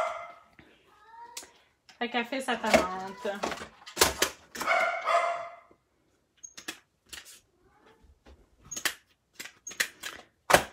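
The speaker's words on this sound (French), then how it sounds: "Désolée pour les chiens, ils sont pestes ces temps-ci." Dogs on a farm bark and yip in short bursts mixed with someone talking nearby, with scattered sharp yelps and clatter continuing intermittently through quieter stretches.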